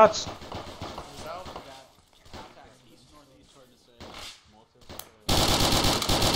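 Gunfire in a military simulation video game: scattered shots and bursts among voices, then a sustained loud barrage of rapid fire in the final second.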